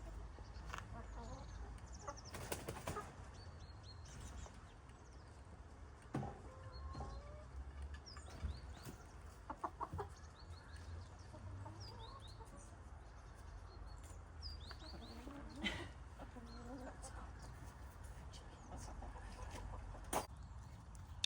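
Chickens cluck and chatter in short bursts at moderate distance, with a few sharper calls mixed in over steady outdoor background noise.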